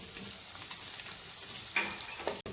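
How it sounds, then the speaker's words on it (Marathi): Edible gum fries in ghee and puffs up, a soft continuous sizzle and crackle with a couple of brief stirring scrapes, close but fairly quiet, with one short dropout near the end. "आता ना डिंक पण चांगला फुलेपर्यंत आहे ना तळून घ्यायचं आपल्याला तेलामध्ये या तुपामध्ये"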